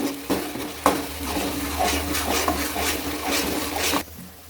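A spoon scrapes and stirs a chili, ginger and garlic paste in a hot pan for Punjabi matar paneer, a steady rhythmic scraping with a light sizzle that stops abruptly near the end.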